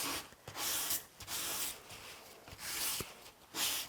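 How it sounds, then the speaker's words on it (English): Scuffing a glossy surface on small mixed-media books with 120 grit sandpaper: four or five close, rasping back-and-forth strokes in distinct bursts, separated by brief pauses. "you want to sand the surface of these because they're very glossy"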